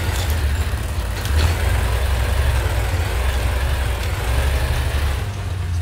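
A tank engine idles in World of Tanks, a steady deep low rumble holding at an even, continuous level throughout with no voices.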